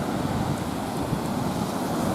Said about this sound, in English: we've got the ocean at the back here